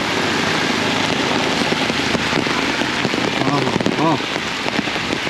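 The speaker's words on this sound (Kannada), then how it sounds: "ಸೊ ಅಲ್ಲಿ ಇದನ್ನು ಇಷ್ಟು ಮಳೆ ಐತಿ ಇವಾಗ. ಮೋಸ್ಟ್ಲಿ ಸೌಂಡೆಲ್ಲ ಕೇಳಾಕ್ಸಿರ್ಬೋದು ನಿಮ್ಗೆ." Heavy rain pours down in Jayanagar, Bengaluru, a dense, steady roar of drops on hard surfaces, loud and close, with faint tonal squeaks and a brief voice-like sound mixed under the downpour.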